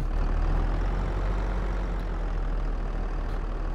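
A tractor engine idles in Farming Simulator 22, a steady low rumble holding an even drone with no change in pitch or loudness, close and alone without talk.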